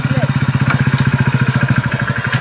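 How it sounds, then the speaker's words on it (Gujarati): A motorcycle engine idles close by, a steady, rapid low chugging throb that holds an even rhythm throughout. "બાઈક બંધ થઈ ગયું"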